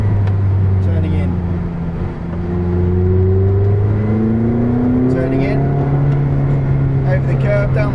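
A McLaren 620R on the Silverstone circuit drones loudly as its engine pitch falls through downshifts under braking into a bend, then climbs again, with a voice talking over the engine throughout.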